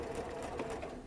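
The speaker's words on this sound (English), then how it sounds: "I'm going to sew right the way up to that pin, then take it off" A sewing machine stitching fabric up to a pin, a quick steady mechanical chatter running continuously at close range but low level, with no talk.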